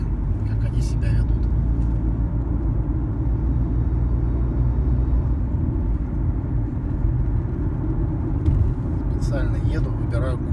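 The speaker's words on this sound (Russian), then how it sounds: "Специально еду, выбираю кочки." Car driving deliberately over road bumps with windshield-mounted radar detector holders, producing a continuous loud low rumble and road noise with occasional knocks and rattles, and brief talking toward the end.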